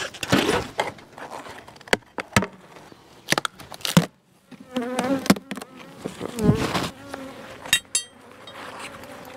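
Bees from a small swarm colony buzz in and around the hive in mid-September, with close, fluctuating wingbeat drones passing near, mixed with clicks and knocks of handling the hive.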